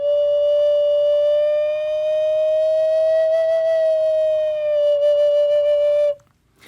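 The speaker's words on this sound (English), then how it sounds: "slowly slide the finger off the hole as you play" A single sustained breathy Native American flute tone holds steady, rises slightly and slowly sags back down as a finger slides off a hole, stopping abruptly; played alone, clear and close.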